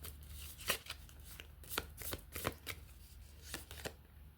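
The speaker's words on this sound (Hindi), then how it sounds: "I will take out a card" Tarot cards being shuffled by hand, a run of soft papery riffles and taps in uneven bursts, close and quiet with no voices.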